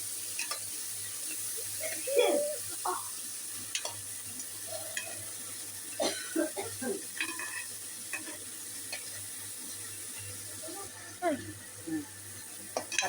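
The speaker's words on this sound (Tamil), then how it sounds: "தக்காளியை நல்லா வதக்கணும்." Tomatoes sautéing in a pan for crab curry, with scattered soft stirring scrapes and light sizzle over a steady low hum, a few sharper utensil knocks and brief voice-like sounds in between.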